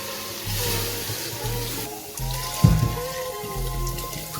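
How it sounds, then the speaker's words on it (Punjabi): Water pours and splashes into a metal cooker for a few seconds while making aloo matar, with a brief louder slosh midway over a low background hum. "ਹੁਣ ਅਸੀਂ ਇਹਦੇ ਵਿੱਚ ਪਾਣੀ ਐਡ ਕਰਦੇ ਆ ਜੀ"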